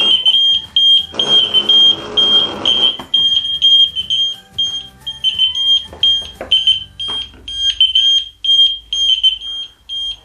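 ELRO smoke and heat detectors sound their alarms together, a shrill, piercing electronic tone pulsing in repeated bursts, loud and close, with a rushing burst of noise early on and some handling sounds between beeps.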